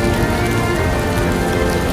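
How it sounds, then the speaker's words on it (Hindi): Heavy monsoon rain pours steadily on a hillside trail, a dense, loud, continuous hiss of drops drumming on surfaces with no pauses or voices. "ऐसी ही बारिश होती रही तो कहीं भूस्खलन ना हो जाए"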